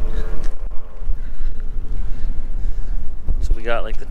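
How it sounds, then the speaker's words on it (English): Strong gusts buffet the microphone on a very windy day during truck loading, a steady low roar with rising and falling surges throughout and a brief voice near the end. "It's been a windy day,"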